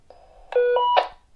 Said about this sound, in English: you'll hear that beep, beep. That's the Roger beep.